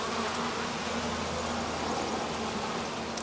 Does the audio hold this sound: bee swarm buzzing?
yes